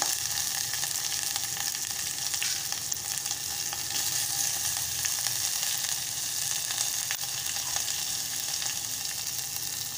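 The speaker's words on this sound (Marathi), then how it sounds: "मिरच्या घालत आहे, आलं घालत आहे," Green chillies and ginger sizzle in hot oil in a pan for buttermilk kadhi, making a dense, steady crackling hiss that stays even and close throughout, with no speech.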